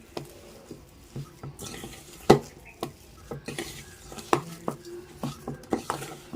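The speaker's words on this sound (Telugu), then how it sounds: "ఇవన్నీ కలిసేలాగా బాగా కలుపుకోవాలండి పచ్చడి" A spoon stirring homemade gongura pickle in a pot to mix it well, with scattered scrapes and clinks against the vessel, fairly close and moderately loud, and no talking.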